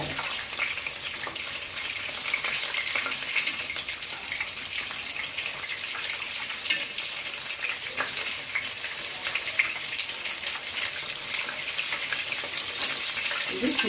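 Chicken sizzles and crackles steadily in hot oil in a pan at a village cooking setup, a dense, even frying hiss with small pops throughout and no talking.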